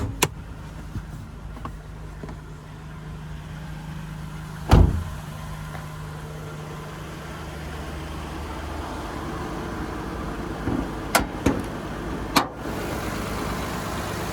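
A 2018 Toyota Kluger GX running with the bonnet open, a steady mid-pitched engine idle throughout, broken by a few sharp clicks and knocks.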